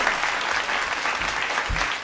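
An audience claps in a dense, steady burst of applause lasting the whole moment, with a few low thumps near the end.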